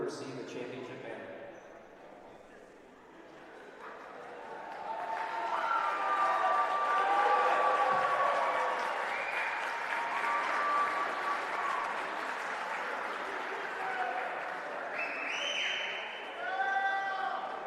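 An arena crowd applauds as the back-to-back USCAA national champion Lyon College men's golf team receives its championship banner, starting quietly and swelling into a sustained round of clapping, with an announcer's voice and faint tones.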